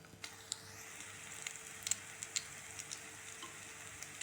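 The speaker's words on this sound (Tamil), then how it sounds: "இது ஒரு சைடு வெந்ததுக்கப்புறம் இன்னொரு சைடு திருப்பி போட்டு 2 சைடு நல்லா பொன்னிறமாகிற வரைக்கும் கொஞ்சம் ஃப்ரை பண்ணி எடுக்கலாம்" Bread banana rolls frying in hot oil, a continuous close sizzle broken by frequent small pops and crackles, heard alone without speech.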